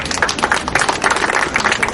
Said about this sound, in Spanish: Entonces damos un aplauso a la señora Felicita